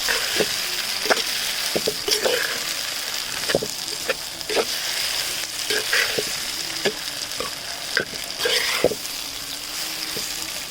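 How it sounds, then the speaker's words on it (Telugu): A ladle stirs brinjal (eggplant) curry in a pan as it sizzles and fries, with scraping knocks and stirring strokes over a steady crackle, close and fairly loud, with no talk. "ఒకసారి గంటతోనైతే బాగా కలుపుదాము"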